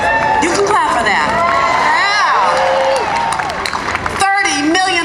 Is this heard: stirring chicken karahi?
no